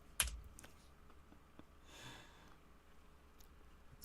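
Faint, scattered clicks of typing on a computer keyboard sound in a quiet room, with one louder tap at the start and a soft breathy sniff midway.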